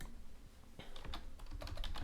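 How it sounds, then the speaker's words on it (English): Fast typing on a computer keyboard, a run of quick clicky keystrokes that grows denser and louder in the second half, with no talking. "I cannot type on like these type of keyboards."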